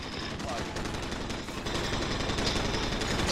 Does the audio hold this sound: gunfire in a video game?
yes